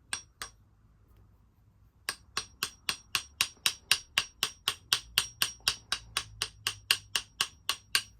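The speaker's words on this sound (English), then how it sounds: "get a little hammer," A small hammer taps a lead fishing weight flat: a couple of isolated strikes, a pause, then a steady run of about twenty sharp, evenly spaced metallic taps, close and clear with no talking.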